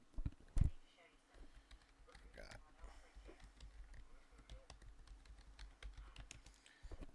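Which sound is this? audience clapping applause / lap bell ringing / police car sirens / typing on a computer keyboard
typing on a computer keyboard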